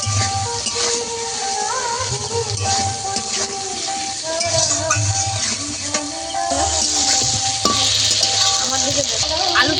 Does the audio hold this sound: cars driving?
no